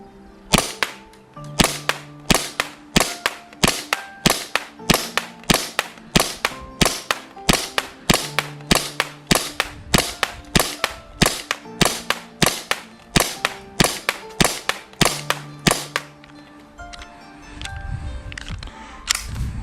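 A VFC Umarex Glock 17 Gen 5 French Edition gas blowback airsoft pistol fires a long string of about thirty sharp, evenly spaced shots with crisp slide clacks, close and loud, then stops and leaves a softer rustle.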